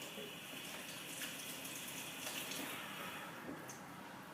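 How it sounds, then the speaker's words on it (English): Hands being washed under a running kitchen tap while making salmon fish cakes, a steady faint hiss of flowing water with a little splashing, continuous throughout. "quickly wash your hands again"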